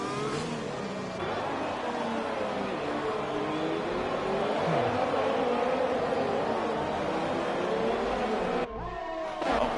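F1 race cars in a racing video game at Mexico, engines droning steadily with rising and falling pitch as cars run close together, a sustained loud roar with a brief cut near the end.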